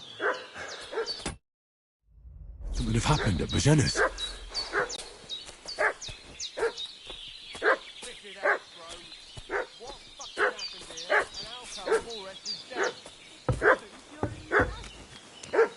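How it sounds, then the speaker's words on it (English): A dog in the video game Kingdom Come: Deliverance barks and yips again and again at an agitated, uneven pace, close and prominent, while someone briefly speaks over the barking. "What's that dog making such a fuss about?"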